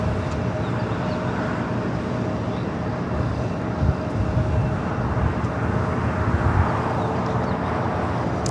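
At Los Angeles International Airport, an airliner's takeoff rumble rolls on steadily and fairly loud, with low thumps and a broad wash of engine noise, no one speaking.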